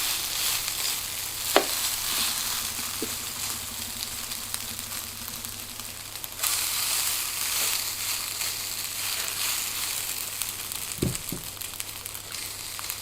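A nest of vegetables fries in a little oil in a pan, giving a low, constant sizzle with occasional soft clicks and scrapes over a faint steady hum.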